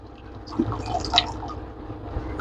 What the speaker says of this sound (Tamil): இப்போ 4 கிளாஸ் தண்ணி ஊற்றிருக்கிறேன்